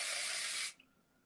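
A short, loud burst of R&Co Life Styler volume and texture spray hisses steadily for about two thirds of a second, then cuts off abruptly into near silence.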